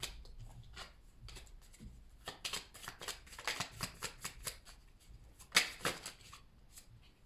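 A tarot deck being cut and riffled by hand, a quick series of close, crisp card flutters and snaps, alone and fairly quiet.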